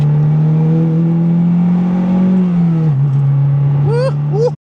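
A Mazdaspeed3 with a built engine and more boost, held at full throttle on a dyno, droning loudly and steadily before dipping slightly, with excited voices briefly rising over it near the end.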